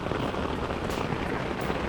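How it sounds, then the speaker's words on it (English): Heavy, dense rain patters steadily on a tent close by, a constant hiss of drops with no pauses, while camping in Isle Royale National Park. "it's crazy how much it's raining right now"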